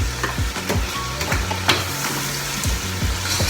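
Sliced zucchini and tomato fry in a pan, a steady sizzle broken by repeated scraping strokes of a spoon stirring through the vegetables, close and moderately loud with no talking.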